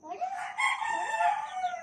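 A rooster crows nearby, one long drawn-out call that rises and holds, loud and clear.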